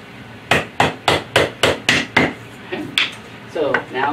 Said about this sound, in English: hammer this one in